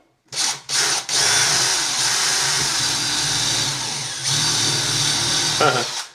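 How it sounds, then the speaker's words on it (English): A power drill whirs loudly up close while drilling into a wall for plugs, starting with two short bursts before running steadily for several seconds and winding down. "So I'll quickly drill and plug those."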